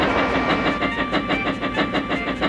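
Cartoon steam engines Thomas and Gina race along the track, a loud rhythmic chuffing and clickety-clack beating steadily at close range with no talk.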